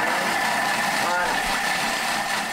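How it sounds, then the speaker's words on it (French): A kitchen mixer whirs steadily at speed 5, a continuous motor drone with a brief fluctuation in the middle, close and fairly loud throughout. "Donc, je vais mixer 10 secondes."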